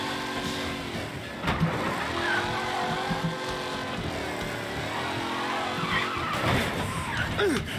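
Car braking and skidding in the Mafia video game, with a long, steady tire squeal over a powerful engine. A few sharper skid bursts rise near the end.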